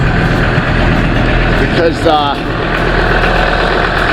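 A Ford F700 truck engine idles steadily while warming up, a loud continuous rumble close by with a voice speaking briefly over it.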